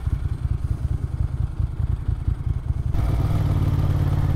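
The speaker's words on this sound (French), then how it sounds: "le bruit caractéristique quand je débraye de l'embrayage Ducati" A 1994 Ducati 900 Supersport idles with its clutch rattling and clattering close by, then the tone shifts to a steadier, smoother engine hum as the clutch is disengaged.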